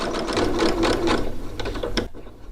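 A sewing machine stitches forward through patchwork fabric for a beginner's pillow, its motor a steady, close whir with rapid needle chatter that cuts off just before the end.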